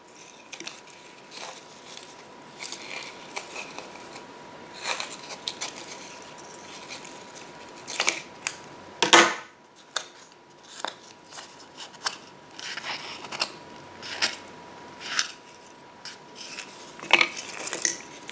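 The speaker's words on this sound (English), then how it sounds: "I'm going to go ahead and remove and cut each of my yarn" Scissors snip yarn strands off a finished kumihimo braid in a quiet room. Scattered crisp cuts come at uneven intervals, with one sharper, louder snip partway through.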